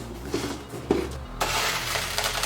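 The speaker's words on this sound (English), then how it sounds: "Here I have my crushed glass, and I put this paper down to catch the extra crushed glass." Crushed glass handled and shifted over a sheet of paper for a craft project, giving gritty rustling and brief clinks that grow into a steady granular crunch near the end, close by with no talk.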